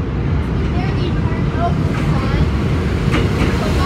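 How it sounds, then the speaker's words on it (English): Steady low rumble of a train with faint squealing tones rising now and then, loud and continuous throughout as it rolls along. "It's the train. No, it's slowing down."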